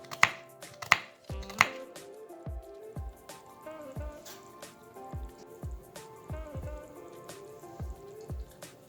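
A knife chops through chicken on a cutting board in a steady series of sharp thuds, roughly a dozen evenly spaced strokes, close and clear with no talking.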